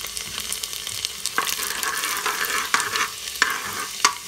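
Garlic fries in hot oil in a pressure cooker, giving a steady loud sizzle broken by several sharp stirring scrapes and clicks, with no talking.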